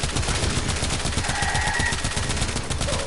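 Rapid automatic gunfire from the Furis pistol in Warframe, a dense stream of loud, close shots with steady rhythm and no talk.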